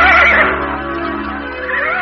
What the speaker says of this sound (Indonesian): Rayi Paksi menunggang kuda, mendaki lereng bukit yang terjal sambil memacu kuda